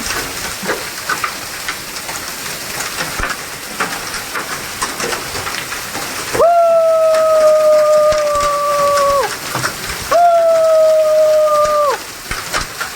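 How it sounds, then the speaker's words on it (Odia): Heavy hail and rain lash down during a Kalbaisakhi storm in Talcher, a dense, steady roar with scattered sharp impacts. Two long, loud, horn-like tones cut through it midway. "ଆପଣ ମାନେ ଦେଖୁଛନ୍ତି କୁଆପଥରର ଜୋରଦାର ମାଡ଼ ଆଉ ବହୁତ ଜୋରରେ କୁଆପଥର ମାଡ଼ ହଉଛି।"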